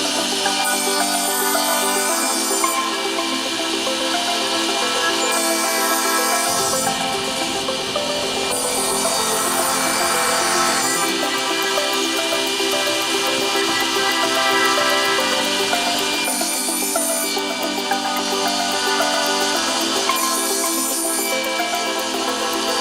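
A saw cuts a wood board into 3.5 inch building-block pieces against a stop block. The cutting whine is loud and continuous, rising and easing in separate passes, with no talking.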